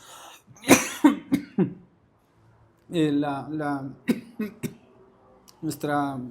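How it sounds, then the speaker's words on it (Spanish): A couple of sharp coughs burst out early, then a person talks conversationally with brief pauses. "es que traigo una tos de la pandemia para acá"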